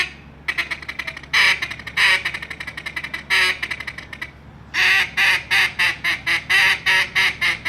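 Duck calls blown at a duck and goose calling competition: loud, close quacking notes in quick bursts, an early irregular series then a fast rhythmic run of about a dozen evenly spaced quacks, each a sharp squawking pulse.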